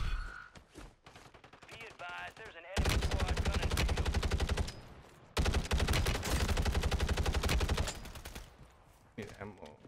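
Bursts of automatic fire in Warzone on Rebirth Island, likely the CX-9 submachine gun, come in two long rapid rattling strings broken by a short pause, with quieter game sounds and speech around them.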